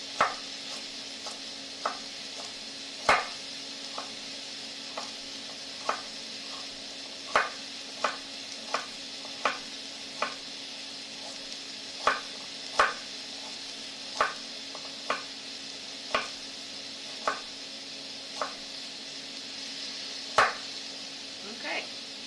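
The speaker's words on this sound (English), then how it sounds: "I'm just going to cut the top and the tail off, and then I'm just going to slice this one perpendicular." A knife slicing a vegetable on a cutting board, with a steady series of sharp single chops at regular intervals, close and clear over a low background hum.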